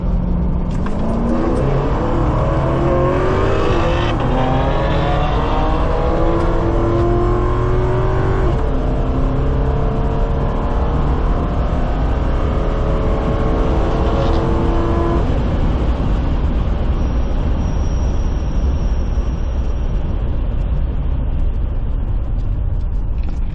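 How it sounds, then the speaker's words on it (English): Drag racing car doing a burnout at Carolina Dragway street night, loud sustained engine roar with rising revs and tire noise, steady and close throughout with no talk. "that car feels weird in the burnout sometimes"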